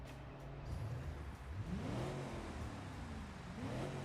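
Virtual car engine in the BeamNG driving game revving through its exhaust, rising and falling in pitch over a steady drone, with two clear rev sweeps; no talking.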